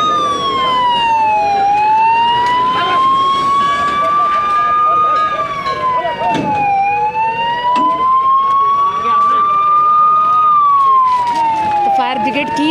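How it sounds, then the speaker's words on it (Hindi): A fire engine siren sounds loud and near as the brigade arrives at a burning slum settlement in Gurugram's Sector 44. Its rising and falling wail sweeps in slow cycles, with a voice speaking underneath. "फायर ब्रिगेड की टीम पहुंची है।"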